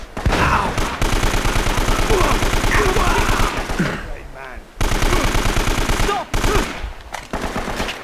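Rapid automatic gunfire fills a firefight in the video game Uncharted: Drake's Fortune. Loud, dense bursts come in rhythmic volleys with brief pauses between them, and a voice sounds faintly beneath the shooting.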